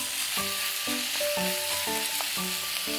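Fish cakes stir-fry in a hot pan with a steady, close sizzle under a soft tonal pattern of repeating notes, with no speech.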